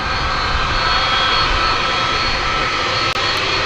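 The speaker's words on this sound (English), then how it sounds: "Off to Las Vegas goes that aircraft." A large airliner leaving DFW Airport for Las Vegas roars loudly and steadily as it departs, a broad and constant engine rumble with no talk over it.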